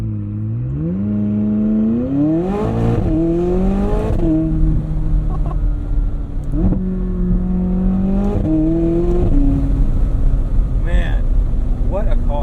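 A 2020 McLaren 600LT Spider convertible being driven, its engine note climbing and dropping through repeated rev sweeps and gear changes, loud and close over wind noise.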